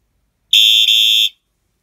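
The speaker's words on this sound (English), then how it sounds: "And now let's test horn." A Wheelock AES-EL1-WM-24 fire alarm horn blasts a single loud, harsh electronic tone for under a second, very close inside a closet, starting and stopping abruptly with a tiny dip midway.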